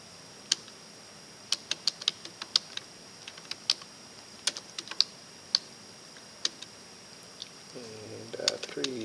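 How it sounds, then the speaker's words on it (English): Numbers are typed into a graphing calculator on a computer keyboard: sparse, sharp, close keystroke clicks in small irregular clusters over a quiet room, with a low rumble near the end. "we're going to type in those numbers, 2, 1, 1, and 3"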